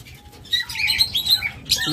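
Pet Parblue budgerigar pairs chirping in a breeder's cage room, a few bright overlapping tweets close by, brief and moderately loud, with faint fluttering and no talk.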